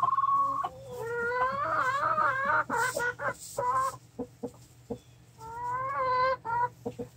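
A rooster and hens in a henhouse, loud close clucking and drawn-out squawking calls with short sharp clucks in between and a steady low hum underneath.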